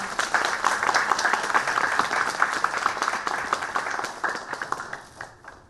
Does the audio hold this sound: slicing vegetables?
no